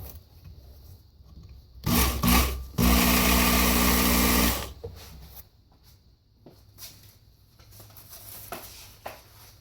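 A Work Sharp blade grinding attachment runs on a blade, two loud bursts of belt grinding, a short one then a longer steady whir of a few seconds, followed by quiet handling noises.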